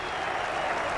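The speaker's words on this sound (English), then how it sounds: "He's getting applause from all of his peers here." Fellow MotoGP riders on the starting grid at the Portuguese Grand Prix clapping for a 30-year-old rider before his 245th start, a dense, even wash of applause throughout.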